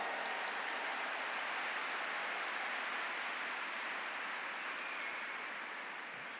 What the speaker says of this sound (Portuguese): Vocês batem palmas, que coisa linda.